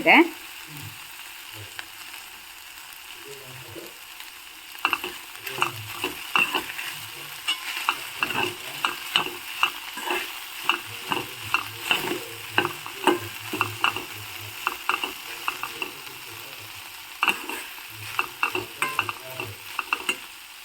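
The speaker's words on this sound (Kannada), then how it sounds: "ಈ ಕಡೆ ಇಲ್ಲಿ ಬೆಂಡೆಕಾಯಿ ಚೆನ್ನಾಗಿ ಫ್ರೈ ಆಗ್ತಾ" Okra frying in a pan for a traditional home-style dish, with a steady sizzle under repeated scraping and stirring strokes throughout, a quieter stretch at the start.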